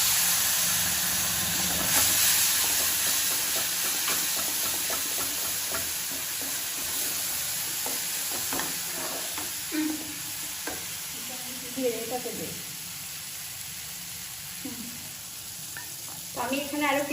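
Spice paste hits hot oil with fried cumin for potol curry, a loud steady sizzle and hiss with scraping stirs, followed by sporadic clatter and a few quiet voice-like sounds toward the end.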